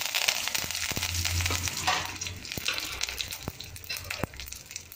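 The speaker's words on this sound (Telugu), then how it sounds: "సిమ్లో పెట్టే చక్కగా మనం పోపు అంతా వేయించేసుకుందాం." Cumin, mustard seeds, fenugreek and curry leaves frying in oil in a pan on a sim flame, a close continuous sizzle with occasional sharp pops and stirring scrapes, no talk.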